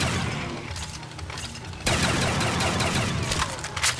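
Rapid video-game gunfire while shooting zombies, dense bursts of shots that intensify partway through over a busy game soundscape.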